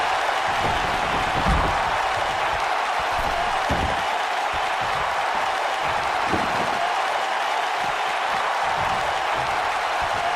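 Wrestling arena crowd in St. Louis roaring steadily, with broad sustained cheering and scattered applause throughout, a few louder bursts rising from the dense wash of crowd noise.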